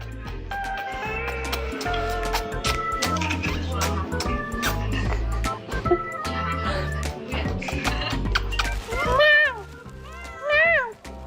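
A cat meows several times in quick succession near the end, clear and nearby, over continuous upbeat background music that plays throughout.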